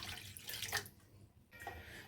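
Water being poured into a pan on a low gas flame for tamarind chutney, a short splashing pour with brief gaps, close and moderately loud.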